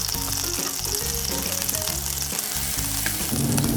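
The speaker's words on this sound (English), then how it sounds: "I'm going to saute my onions and garlic in olive oil." Onions and garlic sautéing in olive oil with leftover taco meat in a single pot, a steady close sizzle and crackle running throughout, with soft music playing underneath.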